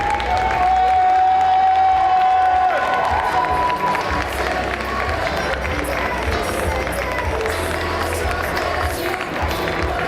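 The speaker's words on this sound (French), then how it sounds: "Et vous pouvez les applaudir parce que l'exercice qu'ils sont fait est loin d'être facile." Audience at a cosplay contest award ceremony clapping and cheering in a dense, steady wash of applause that carries on throughout, with crowd noise and some voices mixed in.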